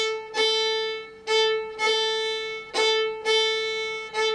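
Solo fiddle bowing a jig pattern, a repeated sustained tone with rhythmic bow accents swelling every half second or so, clear and close.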